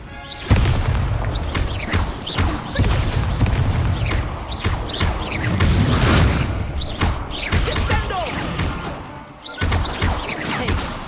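Spell casting in Hogwarts Legacy brings a string of whooshing bursts, booms and crackling impacts that come in repeated waves, loud and close, with short breaks between the blasts.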